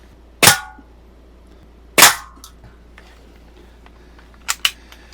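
Daisy 853 air rifle firing at a root beer can: two sharp, separate shots about a second and a half apart, each with a quick metallic smack, then two fainter clicks near the end over a quiet outdoor background.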